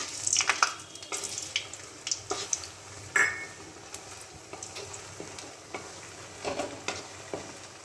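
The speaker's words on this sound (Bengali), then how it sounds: "আমি প্রথমে বড়িগুলো ভেজে নেব।" Bori, small lentil dumplings, fry in hot oil in a wok, giving a soft steady sizzle with scattered stirring clinks and scrapes close by, moderately quiet and with no talking.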